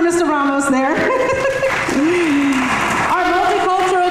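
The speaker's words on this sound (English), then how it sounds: "You can applaud for Mr. Ramos there" Audience applause at a school's African American history presentation rises in a brief burst midway, mixed with light laughter and heard under a man's continuing speech.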